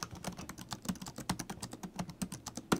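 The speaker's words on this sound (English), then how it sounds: "The keystrokes bottom out quite hard, but that is a very reasonable feeling keyboard, actually." Someone types fast on the hard-bottoming keys of a cheap, small laptop bought for under $100, a dense, irregular patter of close, crisp clacks with no talking.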